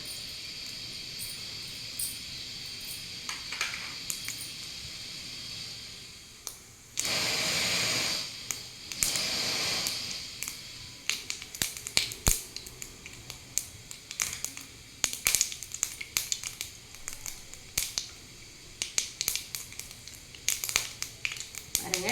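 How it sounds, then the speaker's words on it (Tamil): Mustard seeds and cumin spit and crackle in hot oil in a home kitchen pan while cooking a lentil dumpling gravy, giving dense rapid pops and sizzling hiss that grow sharper and more scattered over time. "கடுகு பொரிஞ்சிச்சு"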